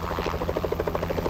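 Police helicopter heard nearby, a loud continuous rotor thrum with fast regular pulsing blade chop over a low engine drone, with no voices.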